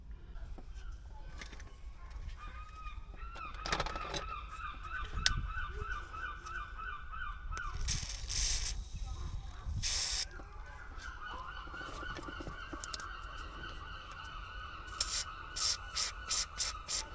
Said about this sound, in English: let me spray this up with some penetrant